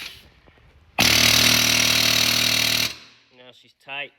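Air hammer working on a truck fan clutch, a loud, harsh burst of rapid hammering lasting about two seconds, followed by someone speaking.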